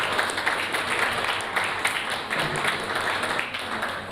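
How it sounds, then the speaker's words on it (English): Audience applause at a university students' union election results night, heard as a steady wash of clapping throughout, fairly loud and even with no clear pauses. "another round of applause, everyone"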